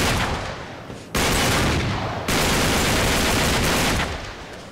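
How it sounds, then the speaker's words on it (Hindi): Loud, dense automatic gunfire fills a shootout in the video game Uncharted 3: Drake's Deception, with continuous rapid bursts that briefly drop away and then resume at full force. "फुल बॉडी आर्मर, बहुत गोलियां वेस्ट करवाई गई है।"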